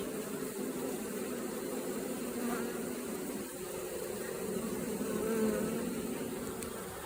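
A steady, dense drone of many honeybees buzzing close by at a hive entrance, unbroken and even throughout, with no voices.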